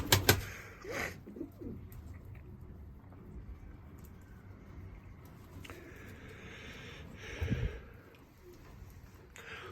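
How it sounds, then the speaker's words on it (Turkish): White pigeons in a loft give a few soft coos amid quiet background noise, with brief louder flutters near the start and around the eight-second mark. "Beyaz güvercinimiz."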